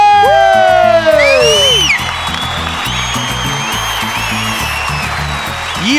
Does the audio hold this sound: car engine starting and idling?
no